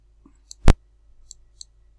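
A computer mouse gives one sharp, close click, then several faint ticks, while someone edits a pricing table in the Divi website builder.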